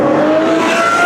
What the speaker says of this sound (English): We saw a Nissan GTR racing a Murcielago